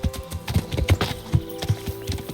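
A horse's hooves clip-clop in Kingdom Come: Deliverance, a steady, close walking rhythm of distinct thuds over a faint background hum.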